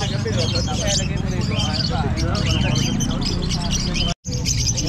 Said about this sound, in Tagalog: Dito tayo sa pwesto ni Boss Marvin, yung kanyang mga ibon at Mr. T.